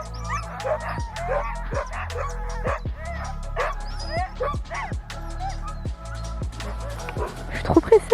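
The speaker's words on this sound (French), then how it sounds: "Bon, ouais, beaucoup de chiens ici." Many sled dogs in Finnish Lapland bark, yip and whimper continuously and excitedly at close range, with people talking among them.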